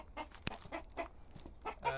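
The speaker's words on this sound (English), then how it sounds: "That's the noisy cockerel, but it likes to be like that, so ignore him." A rooster clucks and calls in short bursts, fairly close at a chicken coop, with a sharp click and some rustling around it.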